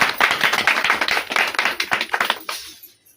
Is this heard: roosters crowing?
no